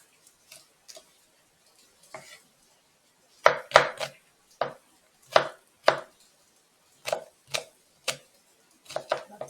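Seasoning aromatics being chopped for callaloo with saltfish, a knife striking a cutting board in separate close, sharp knocks, some single and some in quick bursts, with short pauses between.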